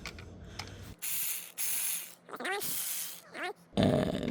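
A ratchet with a 12mm socket loosens AC compressor bolts on a Mitsubishi Outlander, giving several short bursts of rapid, bright clicking with brief pauses between them, close by.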